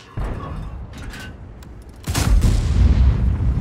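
ISU-152 tank gun firing in the World of Tanks video game: a sudden heavy booming blast that swells into a loud rumbling roar, after quieter muffled thuds.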